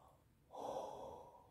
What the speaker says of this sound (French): je baille parce que c'est comme ça que je transmute